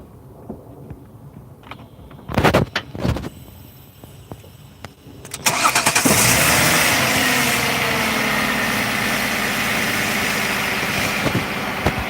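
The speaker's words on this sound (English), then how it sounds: "Could you just crank it up one more time before I do it so they can kind of see how it sounds" A Jaguar car engine cranks with a few loud bursts, then catches and settles into a steady, loud idle that continues to the end.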